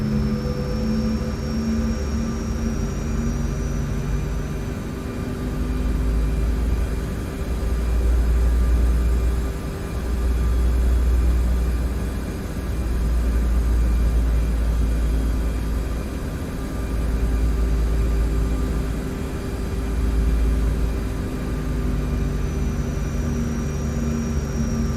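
Saab 340 turboprop engines during a run-up in X-Plane 11: a steady droning hum with tonal whine and a low rumble that swells and eases in slow pulses, continuous and alone.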